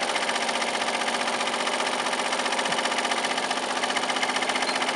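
A 12-needle Voyager embroidery machine sews a tack-down stitch for machine-cut applique at about 1,000 stitches per minute, giving a dense, loud, steady mechanical hum with fast rhythmic needle pulsing and no letup.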